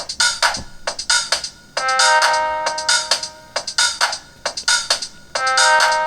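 Tinny, thin electronic sample plays through the small built-in speaker of a Yamaha SEQTRAK groovebox in short repeating bursts, with bright tonal notes and a harsh, boxy quality.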